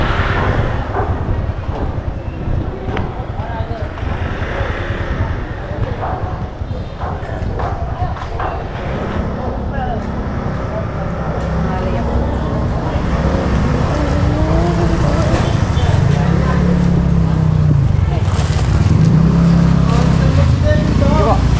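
A motor tricycle carries riders to a market, its engine rumbling steadily underneath passing street noise, with people talking over it now and then.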